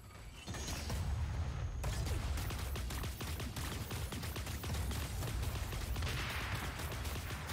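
Gunfire in the mech battle game Super Mecha Champions, heard as a long run of rapid, evenly spaced shots with a mechanical, clanking edge, steady and moderately close.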